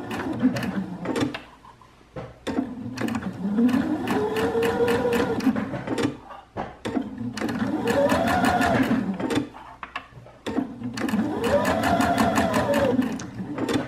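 A sewing machine stitches a candy cane shape for a holiday gift project, running in several steady bursts of stitching separated by short pauses as the fabric is pivoted along the line.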